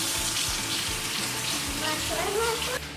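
Tap water runs steadily into a sink while hands are washed beneath it, a continuous close splashing hiss, with a voice and an adult's voice briefly heard over it.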